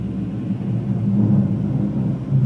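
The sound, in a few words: airplane flying overhead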